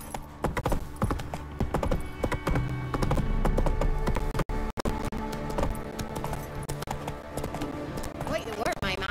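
Horse hooves clip-clopping at a trot in The Witcher III, a steady rhythmic patter under ambient music, with a voice speaking.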